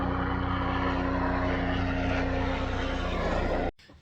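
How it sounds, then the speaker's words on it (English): A helicopter drones steadily overhead, a loud broadband rotor and engine roar that holds for nearly four seconds before cutting off abruptly. "Silly helicopter."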